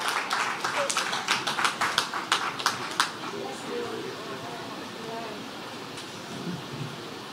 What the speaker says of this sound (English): Give him a round of applause all the way from over in away.